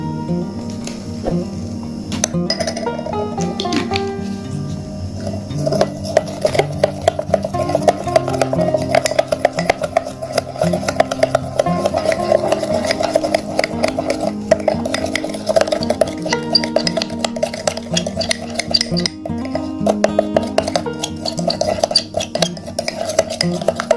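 Baking soda, turmeric and milk stirred together in a bowl, a steady run of spoon clinks and scraping against the dish that grows busier after the first few seconds, with soft background music underneath.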